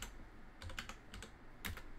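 Quiet, close typing on a computer keyboard, a handful of quick irregular key clicks over about two seconds.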